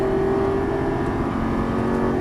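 A Lamborghini Gallardo LP550 accelerates out of a turn on a racing circuit, a loud, steady engine drone close up with a sustained tone and no break.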